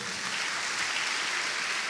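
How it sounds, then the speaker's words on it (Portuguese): A church congregation claps steadily, a dense and even wash of applause that keeps going without a break. "Você pode dar uma salva de palmas para Jesus?"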